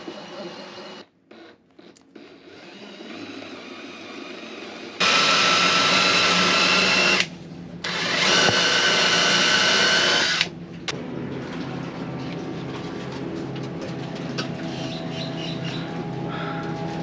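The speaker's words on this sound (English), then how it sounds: "when he's drilling and routering, it actually collects the crap and doesn't allow so much of it to come inside the boat." Drilling and routering portlight holes through a liveboard boat's hull: a loud, steady power-tool whine runs in two long bursts separated by a brief pause, with quieter mechanical noise and rattling before and after.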